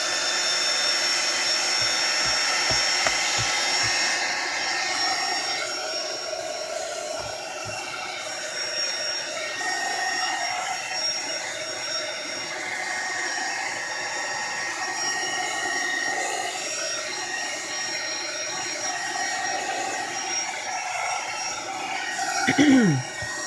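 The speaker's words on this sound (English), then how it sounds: "let me just take the heat gun and blow over it a little bit" A heat gun blows air over a craft project in a steady, loud, close whoosh that runs almost the whole time, with a brief clatter near the end and no talking.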